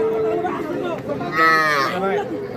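Cattle moo loudly and repeatedly at a calf market selling small Sahiwal heifer calves and bulls, the calls close and prominent over a steady background of market chatter.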